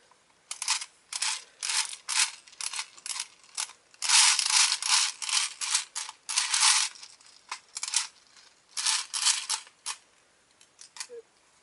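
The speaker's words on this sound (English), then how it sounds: "It does have a crank up wheel on the bottom to crank the BBs up to the top." A crank wheel on the bottom of a BB gun magazine winding BBs up to the top, giving repeated bursts of close ratcheting clicks in an uneven rhythm with brief pauses between the cranking spells.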